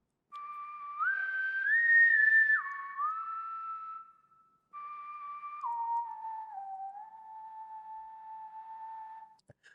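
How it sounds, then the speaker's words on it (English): A realistic, breathy sampled whistle plays a slow lyrical melody in a VSL Synchron composition demo, two sustained phrases with gliding pitch changes, quiet and alone. "The whistle, it sounds very realistic. There's that breathy feel in there."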